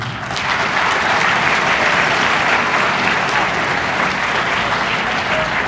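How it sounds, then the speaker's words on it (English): Loud, dense applause fills a high school Veterans Day assembly, a steady roar of many hands clapping continuously from start to finish with no break. "So how about right now a round of applause, please, for all of you."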